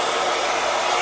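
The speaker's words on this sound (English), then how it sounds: "It's basically the Dyson Airwrap dupe, but I got it at Target" A Target hot air hair styler, a Dyson Airwrap dupe, blows in a steady, loud, continuous whoosh with no talking.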